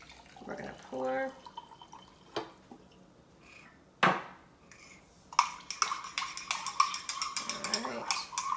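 Liquid is poured into a cup holding oil mixed at the bottom, with a steady trickling splash in the final few seconds after scattered clinks and handling knocks.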